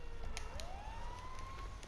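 A distant fire engine siren wailing upward in pitch and holding, faint beneath a background of low rumble and scattered clicks.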